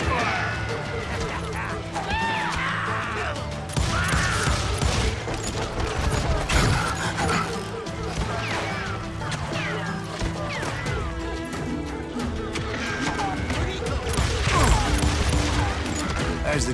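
Rapid gunfire crackles and bangs in the Western shooter game Call of Juarez: Gunslinger, dense repeated shots and impacts over music with voices shouting in the clip.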